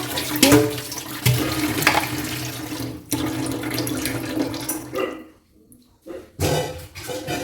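Tap water runs steadily into a metal pot at close range, a continuous gushing flow that keeps going for several seconds, briefly drops away near the end, then resumes.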